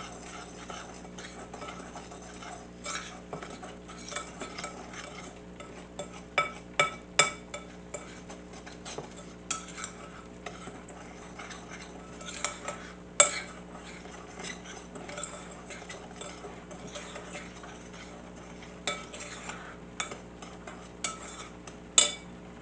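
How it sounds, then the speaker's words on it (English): Ingredients are stirred together with salt in a bowl, a soft scraping broken by scattered light clinks of a utensil against the dish, quiet and close, with a dog whimpering faintly nearby. "Mix all this together."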